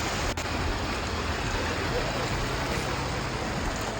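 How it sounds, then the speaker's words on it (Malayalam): The Kaveri river at Dubare in Coorg, Karnataka, produces a steady, loud, continuous rush of flowing water that fills the whole stretch without a break. "വെള്ളത്തിന്റെ സൗണ്ടൊക്കെ ഒക്കെ ഒഴുകണതിൻ്റെ അടിപൊളിയാണ്"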